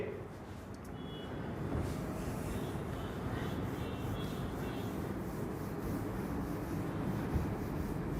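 A classroom board is rubbed clean in a steady, continuous scrubbing hiss that runs unbroken and fairly close, with no talking over it.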